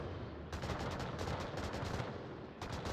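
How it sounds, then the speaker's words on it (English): Gunfire from the VR shooter game Onward crackles in repeated rapid bursts over a constant noisy background. The shots sound somewhat distant and fairly quiet, with no voices. "Lots of gunfire coming out early."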